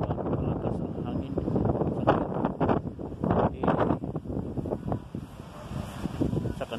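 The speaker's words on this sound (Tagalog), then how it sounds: "strong gale ito, strong gale dahil kung sa atin, bagyo na to. Ang lakas ng hangin." Strong wind roars and buffets the microphone in continuous gusts, with a voice speaking underneath.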